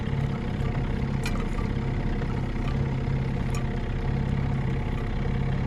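A crabbing boat's motor runs steadily at idle on a trotline outing in St. Mary's County, Maryland, a constant low drone with no breaks, close and fairly loud.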